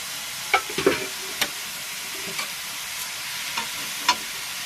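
Cabbage is stirred into fried masala for a koi fish curry, with scattered spatula scrapes and taps over a steady, close sizzle.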